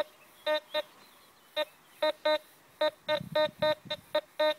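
A phone gives off a series of short electronic beeps in irregular single and double pulses during a metal-detecting outing, close and clear over quiet outdoor background.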